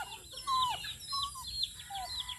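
Chickens cluck softly nearby, a few short rising and falling calls scattered over quiet background.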